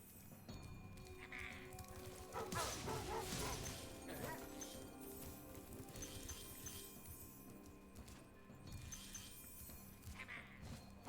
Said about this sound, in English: Absolutely cannot stand these dog enemies.